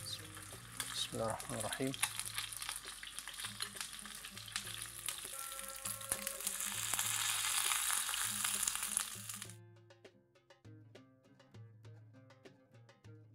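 Stuffed mombar frying in a little oil in a pan, a dense crackling sizzle with a few knocks early on, swelling louder before cutting off into a short stretch of music. A voice speaks briefly at the start.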